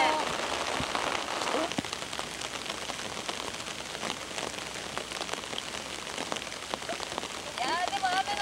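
Rain pattering steadily on a golf course, a dense close hiss of drops with occasional sharper taps, and faint voices talking beneath it.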